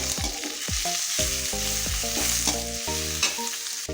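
Vegetables fry and sizzle steadily in a pan while a spoon stirs them, its metallic scrapes repeating in a loose rhythm over the hiss. The sound is close and there is no talking.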